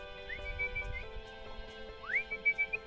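Two rising then held whistle blasts call a border terrier while blackberry picking outdoors, the second brighter and louder, with faint rustling and handling noise between.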